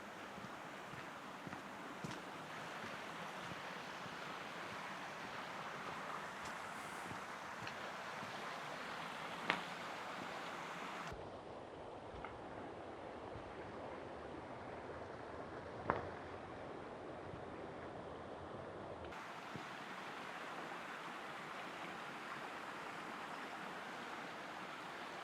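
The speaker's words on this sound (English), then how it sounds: "body of water here that actually rushes into the River Windrush" Water rushes along a Cotswold woodland stream that feeds the River Windrush, a steady broadband roar with wind buffeting the microphone and no talk.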